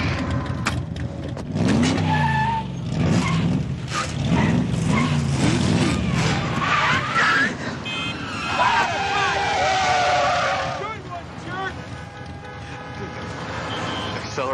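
A high-performance race car on a test drive, engine rising and falling through gear changes with revving sweeps and tire noise, loud and close, with talking over parts of it.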